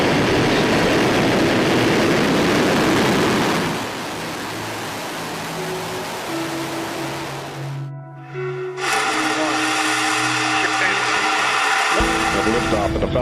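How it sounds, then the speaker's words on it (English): Falcon 9 rocket engines roar at liftoff on the 100th flight, starting as a loud, dense, broadband rush. After about four seconds it drops into a quieter hum with tonal whines, then a fresh burst of noise follows. "liftoff of the Falcon 9. Falcon 9 has cleared the tower"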